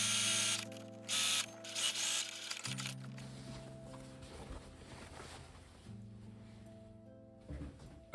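A sewing machine stitching a 3/8 inch seam on Minecraft ore-block cargo pants, a close mechanical whir in steady bursts that stop and start, broken by short pauses and soft handling clicks.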